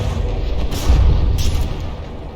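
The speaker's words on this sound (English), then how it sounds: "Saw that shell get right in at the base of that 12-barrel turret, and off it comes." Heavy game explosion as a shell strikes the base of a 12-barrel battleship turret in From the Depths, a loud low boom swelling midway and rumbling on under continuous battle noise.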